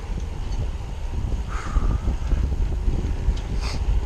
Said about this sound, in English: Feels like I got a good wind to push me home today.